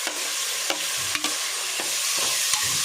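Onion and tomato fry in a pan for chicken sukka, a steady loud sizzle broken by several sharp scraping stirs at irregular intervals, close up with no talking.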